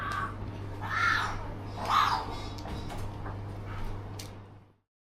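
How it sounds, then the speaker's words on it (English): A kookaburra calling outdoors in Melbourne, two or three rising bursts of raucous cackling at middle distance over a steady low hum, the calls fading out near the end. "this is a kookaburra, and I've never seen one ever."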